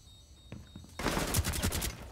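Burst of rapid gunfire in Rainbow Six Siege, a faint shot at first, then a loud sustained volley of close automatic fire lasting about a second.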